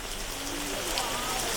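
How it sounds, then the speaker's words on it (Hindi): The Saavan Bhado fountain sends water falling like rain, a dense steady hiss of spattering droplets, with birds cooing faintly in the background. "ये प्लेस का नाम है सावन भादो फाउंटेन"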